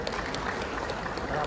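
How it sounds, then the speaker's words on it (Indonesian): A seated audience at a national ICMI assembly in Bali claps steadily in a dense, even patter for a moment, filling the hall with continuous applause and no clear pauses. "Tepuk tangan lagi untuk kita."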